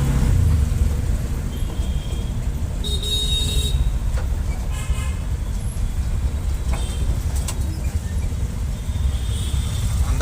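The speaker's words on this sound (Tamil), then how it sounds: "அந்த பக்கம் தான் டிராஃபிக் இருக்குன்னு பார்த்தா இந்த பக்கமும் டிராஃபிக் இருக்குங்க" Busy road traffic in Chennai rumbles steadily, with several short car horn toots scattered over about ten seconds and a constant low engine drone throughout.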